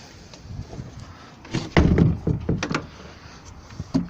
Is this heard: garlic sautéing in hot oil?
no